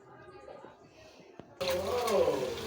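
Water runs into a basin as leafy greens are rinsed, a steady splashing wash that starts abruptly partway through after quieter handling sounds, with no talking.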